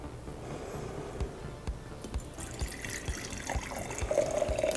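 Spirit infusion poured from a jar through a strainer into a half mason jar, a steady trickle of liquid with light splashes and a few clinks, growing slightly louder toward the end.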